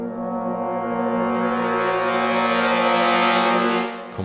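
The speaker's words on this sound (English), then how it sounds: "there is one of the two of the brass effects from Project Sam" Sustained brass effect from a Project Sam orchestral sample library, a loud, low foghorn-like chord swelling steadily for about four seconds before cutting off.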